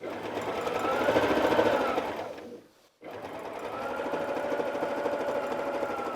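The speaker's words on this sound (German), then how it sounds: "ich nähe jetzt einmal an meiner Kante entlang" A sewing machine stitching along the edge of patchwork fabric runs steadily and close up, pauses briefly for about half a second, then hums on again at an even pace with no talking.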